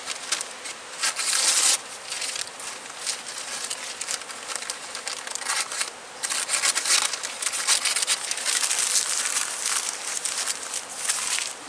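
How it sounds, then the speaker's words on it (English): Honey bees swarming around an open hive in late fall make a dense, steady, high buzzing drone with individual insects flitting close by. The sound is continuous and fairly loud, with no talking. "the bees are looking for every last little bit of nectar they can look"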